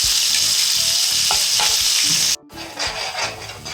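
Tomato and ginger paste fries hard in hot oil for a chicken curry, a loud close crackling sizzle with stirring scrapes that briefly cuts out and then resumes.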